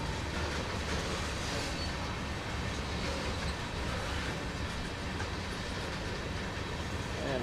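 A long CSX heavy-haul freight train rumbles along in winter service in Train Sim World, with a loud, continuous roar and rail noise that never lets up.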